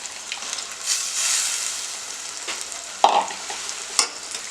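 Small prawns dropped into a pan of frying tomato masala give a bright hissing sizzle that swells, with sharp stirring scrapes and splashy bursts near the end.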